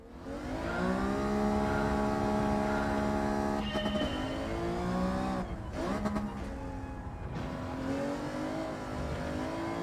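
Alfa race car engine in Gran Turismo 7 holds a loud, steady drone throughout, its pitch rising through the gears with brief breaks between shifts and some tyre noise.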